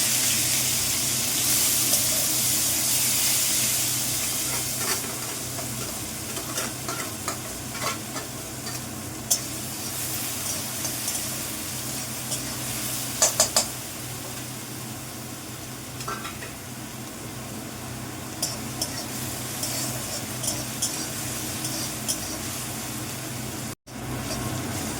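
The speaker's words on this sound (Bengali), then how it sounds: "পেঁয়াজ ভাজাটা হয়ে গেছে, গোল্ডেন আঁকা হয়ে গেছে" Chopped onions sizzle and fry in a hot pan while being stirred, a steady close crackling hiss with soft scraping of the spoon throughout, no voices.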